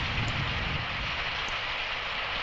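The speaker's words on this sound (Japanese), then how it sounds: "ゾフィーも雨に濡れてるの？" Steady rain falls in an outdoor scene from the tokusatsu series Ultraman Taro, a dense, even hiss that holds without a break and with no voices.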